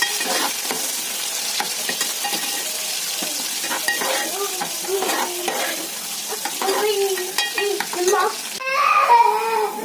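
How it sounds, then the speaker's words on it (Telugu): Close, continuous sizzle of a fenugreek, mustard, cumin, onion and curry leaf tempering frying in a pan for gongura dal, broken by spoon scrapes and metallic clinks as it is stirred, with louder clatter near the end. "తాలింపు బాగా వేగాలండి తాలింపు వేడితేనే పప్పుకి టేస్ట్"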